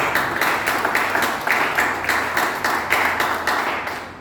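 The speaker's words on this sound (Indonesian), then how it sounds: "beri tepuk tangan bagi Tuhan" Congregation clapping in a church service, a steady rhythmic beat of many hands about two claps per second, loud and sustained with no talk over it.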